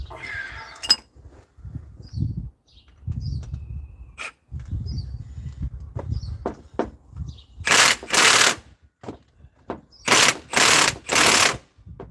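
Pneumatic impact gun hammering at a bolt in a garage, heard as several loud, rapid bursts of rattling impacts near the end, after a stretch of low clunks and mechanical noise.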